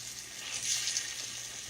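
Hoecake batter fries in a pan, a soft, faint sizzle with a gentle hiss swelling briefly in the middle of a very short stretch.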